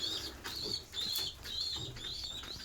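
A sick pigeon in a pigeon coop makes odd, raspy repeated calls with soft flutters, a strained wheezing rhythm close by and fairly quiet.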